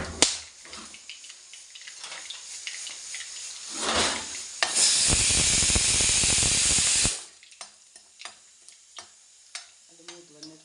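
Whole black pepper, cardamom and cinnamon crackle in hot oil in a home kitchen, scattered ticks rising to a loud steady sizzle for a few seconds before easing back into sparse pops.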